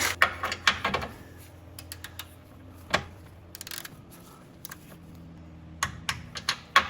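Sharp clicks from a torque wrench while tightening bolts on a Honda during a DIY repair, several separate ticks and bursts scattered across the clip, close and fairly crisp, with no talk.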